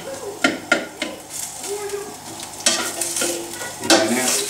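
Meat and onions browning in a pan for barbacoa, giving a steady close sizzle with scraping and stirring clatter from a utensil against the pan.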